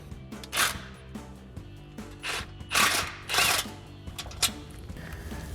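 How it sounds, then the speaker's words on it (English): A 16mm socket wrench works a bolt on a Jeep Gladiator JT frame rail, producing several close bursts of rapid ratcheting clicks separated by short pauses against a low background hum. "we'll grab that 16mm socket for the bolt"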